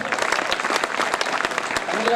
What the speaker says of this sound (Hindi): आप ताली बजाकर मुझे एक बार आदेशित करें